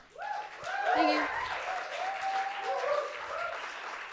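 Audience applause after a song at a trans umbrella group telethon, a broad steady clapping wash lasting the whole stretch, with voices and sung or spoken tones layered over it.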